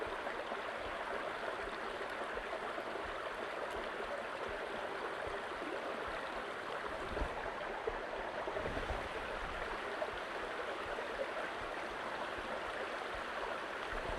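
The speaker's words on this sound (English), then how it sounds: "find the sound of water just soothing?" Water rushes and burbles steadily in a flowing stream at Ravensburg State Park in fall, a constant close wash of sound with no voices.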